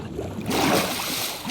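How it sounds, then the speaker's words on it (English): A Minecraft player lands in water, giving a brief close splash that turns into steady gurgling and sloshing. "Ooh, I'm gonna land in the water."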